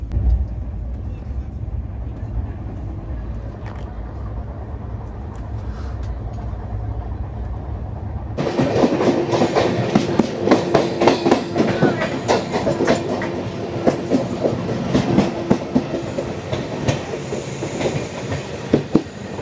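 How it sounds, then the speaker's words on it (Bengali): Black Diamond Express on the Eastern Railway near Mankundu, heard from a moving train: a steady rail rumble suddenly swells into a loud, close passing roar with rhythmic wheel clatter that lasts to the end. "এদিক দিয়ে ঢুকলো হচ্ছে ব্ল্যাক ডায়মন্ড এক্সপ্রেস।"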